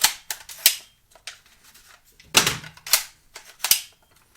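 A .22 rifle being dry-fired and its trigger reset, giving a series of sharp, close mechanical clicks and snaps spaced irregularly across a quiet background.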